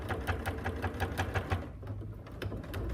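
Sewing machine stitching close to the edge of a seam on shower proof fabric, a quick, clunky rhythmic chatter heard near and alone.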